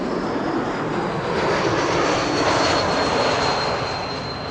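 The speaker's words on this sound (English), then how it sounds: "Landing from Zurich, KLM flight 1918." A KLM jet airliner arriving from Zurich lands at Amsterdam Schiphol Airport in sunny weather, its engines producing a loud, steady roar that swells slightly midway and then holds, continuous throughout without any talk.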